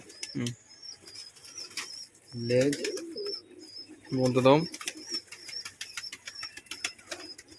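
Pet pigeons in a cage, including a white-eyed female, give several low throaty coos in short bursts close by, with faint wing rustles and someone talking over them.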